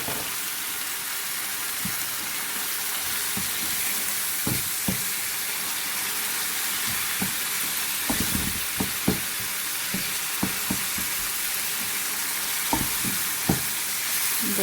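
Green chilies hitting hot oil for a tadka for sarson ka saag, a steady sizzle and crackle with scattered sharp pops and clinks through the stretch, close and moderately loud, no voices.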